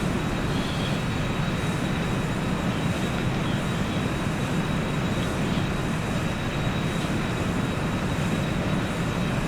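Jet engine of a Challenger 300 in X-Plane 11, a constant loud, dense roar with a faint steady high whine on top, unchanging throughout with no talk.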